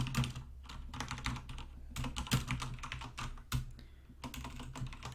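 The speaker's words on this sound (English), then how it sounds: "My typing seems to be off lately." Fast typing on a computer keyboard, bursts of crisp close key clicks in irregular runs with short pauses between them, heard alone without speech.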